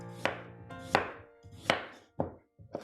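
A knife cuts a carrot into big chunks on a board, making five distinct sharp chops at uneven intervals, close and clear with no talk.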